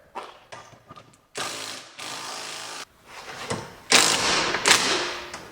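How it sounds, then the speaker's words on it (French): An impact wrench with a 14 mm socket works loose a car's suspension ball joint. Several short bursts and longer loud rattling runs are broken by pauses and clunks, with no talking. "Maintenant, logiquement, clé à choc, douille de 14 et bah, ça devrait sortir."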